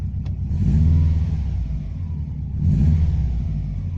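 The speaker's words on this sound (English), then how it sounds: "the revs rise and drop like they should" A Subaru Impreza GC8 RB5 2.0 turbo, not fully warmed up, revs twice from idle, each rise swelling then falling back to a steady low rumble, close and clear with no talk.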